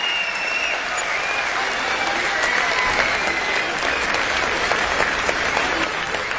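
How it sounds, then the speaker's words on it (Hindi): An audience at an Urdu poetry recital applauds the poet Umair Najmi, giving a dense, steady burst of clapping that fills the whole stretch with a faint murmur of voices underneath. "जोरदार तालियों से इस्तकबाल करें उमर नजमी का"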